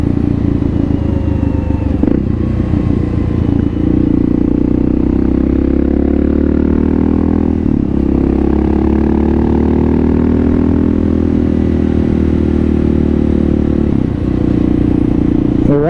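A Kawasaki KLR650 motorcycle rides continuously at steady, close range, its engine droning through the gears with low rumble and brief shifts at about 2, 8 and 14 seconds as the pitch drops and climbs again.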